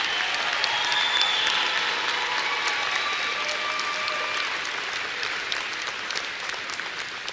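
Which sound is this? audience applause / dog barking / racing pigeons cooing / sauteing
audience applause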